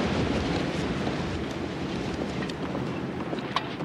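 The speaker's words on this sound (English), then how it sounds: "it's windy enough we could blow back to Austin" Strong wind buffets and roars continuously, with a low rumbling gustiness and faint rattling over it.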